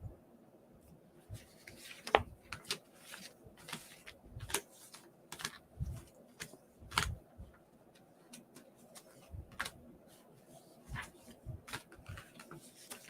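Tarot cards are drawn and handled during a reading. Irregular soft clicks and snaps of card handling come close and fairly quiet, with a faint low murmur underneath.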